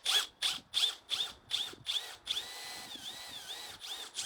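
A power drill with a step drill bit bores holes through two stacked pieces of metal, with a rapid series of short whining bursts followed by a longer continuous pitch-wavering grind, close up and with no talking.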